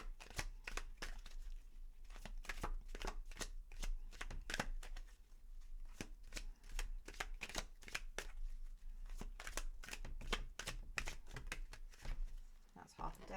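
A deck of tarot cards being shuffled by hand, with quick repeated riffling and snapping card sounds in an uneven rhythm, close and crisp throughout.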